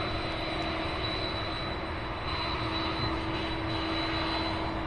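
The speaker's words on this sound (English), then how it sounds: "So when that 747 comes by here on taxiway Alpha, Just watch your ears." Boeing 747 jet taxiing at Louisville International Airport, a loud continuous engine roar with a steady high whine, close and unbroken, no talking.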